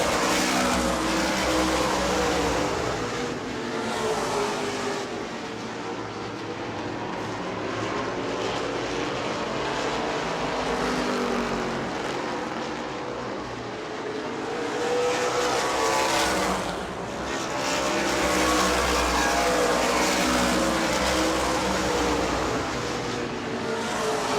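Stock cars racing on the track at New Smyrna during the World Series: a dense, continuous roar of loud engines that swells and ebbs as cars pass close by, with no talk.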